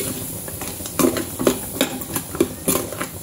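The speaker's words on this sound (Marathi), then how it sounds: "तर आता आपण हे व्यवस्थित मिक्स करून घेऊया" Vegetables for dal khichdi stirred in a pan, a utensil scraping and clinking in a steady rhythm of strokes over a soft sizzle, close and alone.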